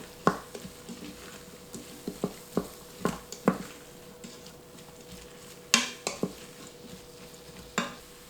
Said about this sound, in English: I'm going to add my spices, and I've got some smoked paprika and some chili powder, and just stir that in